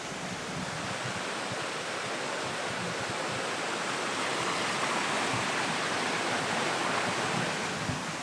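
Loud, continuous rush of water pouring over a reservoir overspill on Dartmoor, a dense roaring wash with no pauses or voices.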